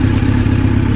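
A motorcycle with a straight-pipe exhaust running close by, a loud, rough, throbbing engine note with rapid pulsing exhaust beats, steady across one brief moment.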